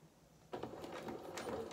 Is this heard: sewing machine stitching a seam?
yes